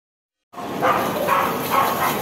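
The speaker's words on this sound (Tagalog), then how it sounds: "May tahol. May tahol." A dog barks a few times at a steady pace, somewhat distant, over a continuous noisy background.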